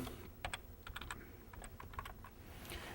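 A name being typed on a computer keyboard at a board meeting, with quick, close, light key clicks in uneven bursts against a faint room hum.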